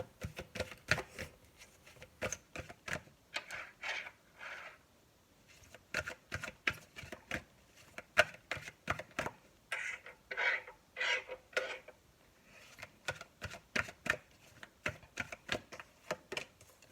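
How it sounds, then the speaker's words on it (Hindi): Tarot cards being shuffled by hand, quiet quick riffling bursts and taps in an irregular rhythm, close and soft, with brief pauses between shuffles. "तो मैं पहले कार्ड शफल कर रही हूँ ये पता करने के लिए कि आपके सवाल क्या क्या हैं।"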